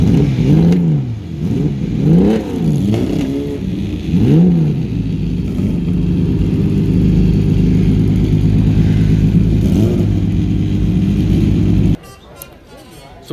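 A 1966 Porsche 906 race car engine at an outdoor motoring festival, revved loud and near in several rising and falling bursts, then settling into a steady idle drone before cutting out; people talk throughout.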